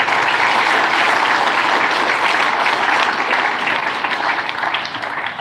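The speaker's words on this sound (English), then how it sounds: "They really deserve a big round of applause." An audience at a national camp in Thiruvananthapuram claps in a dense, sustained burst of applause that stays loud throughout and thins slightly toward the end, with no voices over it.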